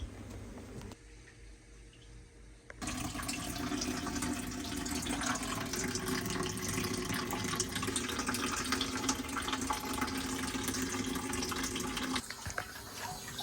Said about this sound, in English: we're going to get it disconnected, drained off via the filling loop, which is quite handy because it's the highest point, and we're going to drain it down